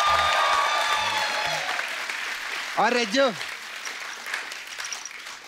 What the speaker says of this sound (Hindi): हमारी रज्जो के लिए जोरदार ताली।